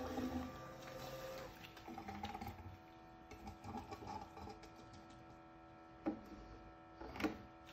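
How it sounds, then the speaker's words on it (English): A Terapump 4th Gen TRFA01 fuel transfer pump runs with a steady mechanical hum and whir, close by, with a couple of brief clunks near the end. "we'll turn on the pump here and see if it actually shuts off"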